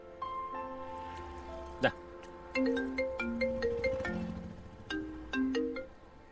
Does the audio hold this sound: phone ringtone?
yes